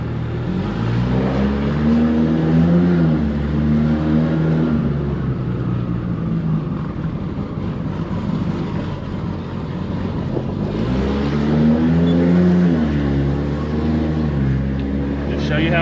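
A 2JZ-swapped BMW E30 with an 8HP70 automatic cruises in comfort mode, its steady engine drone rising and falling with gentle acceleration and shifts, heard from inside the cabin with a voice talking over it.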